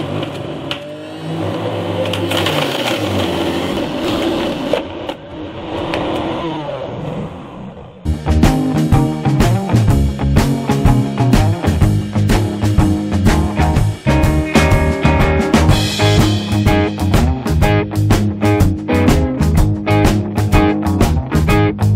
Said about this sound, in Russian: Морковь мы закладываем вот сюда, чтобы она не выпрыгивала, мы зажимаем ее вот такой вот штукой, включаем и получаем сок.